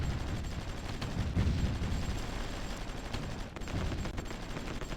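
Distant artillery fire in the Supreme Ruler Ultimate strategy game: a faint, steady wash of battle noise with scattered gunfire-like pops and rumbles, continuous throughout.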